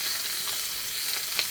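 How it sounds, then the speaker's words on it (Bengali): Oil heating in a kadai (wok) before onions and chilies go in for a bitter gourd fry gives a steady, close hissing sizzle with small pops, and no one talks. "উস্তাভাজির জন্য কড়াইতে তেল দিয়ে দিলাম।"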